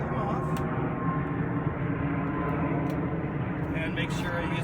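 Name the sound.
airplane flying overhead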